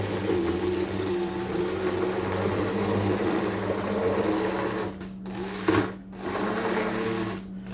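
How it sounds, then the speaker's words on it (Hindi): An electric blender whirs steadily as it mixes egg custard with a few drops of vanilla essence and bread slices. The motor hum runs continuously, with a few brief dips near the end. "अब इसको हम ब्लेंड कर देंगे अच्छी तरह से।"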